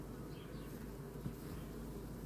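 Honeybees buzz densely and continuously at a hive frame during a beekeeping inspection, a close, steady drone filling the whole short stretch.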